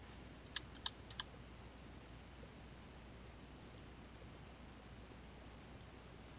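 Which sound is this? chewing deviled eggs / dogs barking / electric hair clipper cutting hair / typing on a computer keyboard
typing on a computer keyboard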